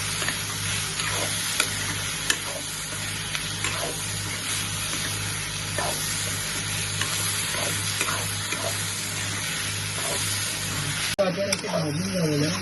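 Chopped large tomatoes and onions stirred and frying in a pan for a spicy Maharashtrian Konkani chicken curry, a steady close sizzle with scraping stirs throughout, ending with a short burst of different noise.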